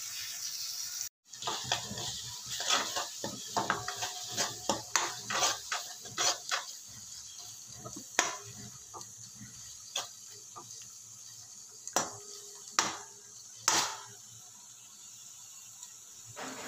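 A spoon scrapes and taps in a pan while masala spices with chili and turmeric are mixed for mushroom gravy, a series of faint, irregular clinks and scrapes with quiet gaps between them.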